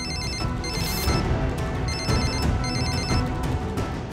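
A telephone rings on a call with a repeating electronic trill in short bursts, fairly loud and alone with no talk over it.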